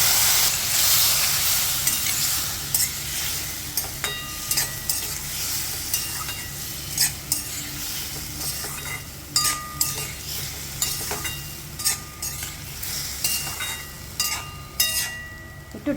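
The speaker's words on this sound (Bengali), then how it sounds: "আমি এবার একটু অল্প একটু জল দিয়ে এটাকে মশলাটাকে কষাবো।" Spice paste sautéed with a splash of water in a pan for a Bengali fish-head and Malabar spinach ghonto, a soft steady sizzle broken by repeated scraping stirs of a spatula, close and moderately loud with no talk.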